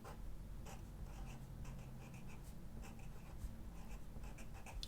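A Tombow Mono drawing pen scratches across paper in close, faint strokes, with short repeated scribbling bursts over a low steady background hum.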